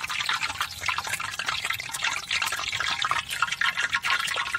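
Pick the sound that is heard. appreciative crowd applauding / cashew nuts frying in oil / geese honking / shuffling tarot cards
cashew nuts frying in oil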